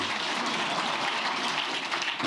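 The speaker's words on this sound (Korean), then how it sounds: "야 이건 박수 치라는 뜻이구나" Steady applause from a seated audience at a public-service lecture, a dense continuous patter of many hands clapping at even loudness throughout, with no voices over it.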